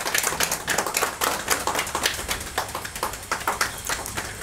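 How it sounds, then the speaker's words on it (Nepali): An audience at a foundation's first anniversary event, held with old-age home residents, claps in a dense, steady patter of many hands that continues throughout without talk. "ताली पनि लगाइदिन नभुल्नुहोस्"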